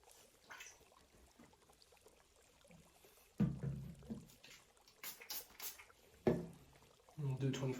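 A straight razor is honed in laps on a Tsushima hone with a very light slurry. Quiet wet strokes build into a few louder scraping bursts, with short pauses between them.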